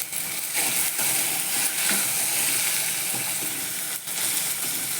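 Shrimp sizzling and frying in hot oil as it is gently stirred and sautéed, a steady loud crackle filling the whole stretch with soft scrapes of the spoon and no talk.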